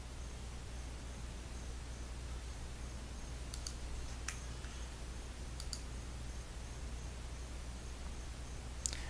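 A computer mouse clicks a few times on an on-screen button, sharp faint clicks in small pairs over a steady low hum, with no speech.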